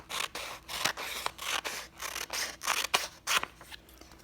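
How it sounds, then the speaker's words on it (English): Scissors snipping through paper to cut out a craft handle along a straight drawn line, a close, steady series of about a dozen crisp cuts with soft rustling between, and no talking. "Now let's cut out our handle."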